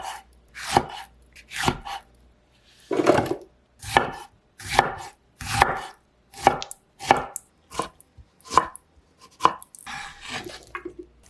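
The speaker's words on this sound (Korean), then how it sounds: "양파는 작은 네모 모양으로 썰어주세요. 토마토도 작은 크기로 써세요." A knife chops onion and tomato into small pieces on a cutting board, with about a dozen separate, crisp thuds spaced at an irregular, unhurried rhythm and nearby.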